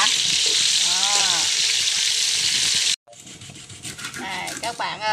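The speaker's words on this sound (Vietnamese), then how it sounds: "Bây giờ mình xào dầu cái con cá này" Catfish sizzles and crackles in hot oil in a home kitchen in the Vietnamese countryside, a loud continuous hiss for about three seconds, then a brief gap and softer, sputtering frying while a person talks over it.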